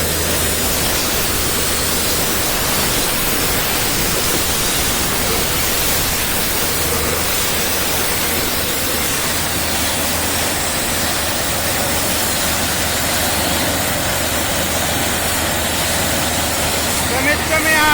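Water and air blast out of a newly drilled borewell in a maize field in Dighanchi, about a three-inch flow: a loud, continuous roaring hiss that stays constant throughout, with voices buried under the noise.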